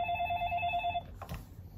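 A telephone rings with a bright electronic trill for about a second, its pulsing tone close and clear before cutting off into quieter room noise.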